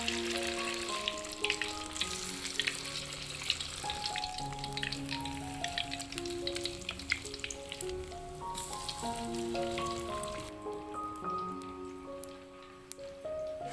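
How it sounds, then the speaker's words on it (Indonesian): Corn fritters frying in oil over a village cooking fire, a soft continuous crackle and sizzle under background music, fairly faint. "Oke, sekarang kita goreng. Apinya sudah siap."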